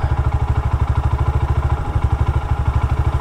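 A motorcycle engine with a 28 mm flat-slide carburetor idles around 1,500 RPM during air screw adjustment, a loud, close, steady rapid thumping pulse with no speech.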